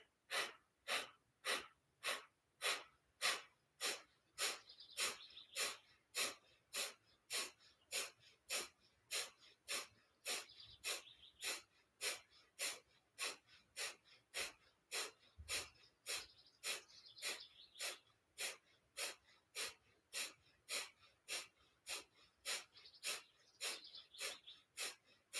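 Rhythmic counted breathing during a breathing and Yamuna spine routine: a long, steady run of quick, forceful breaths, about forty in a row at an even pace, close and fairly soft, with no talking.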